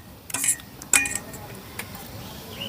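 A ladle clinks and scrapes against a bowl while papad batter made from flour is stirred, two sharp metallic knocks standing out over a quiet kitchen background, close and fairly soft.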